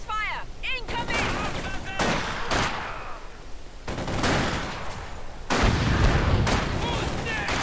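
Battlefield gunfire in the video game Company of Heroes 2: repeated rifle and machine-gun bursts with heavier booming shots, loud and sustained, while game character voices call out over the fighting.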